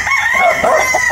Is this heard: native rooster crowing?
yes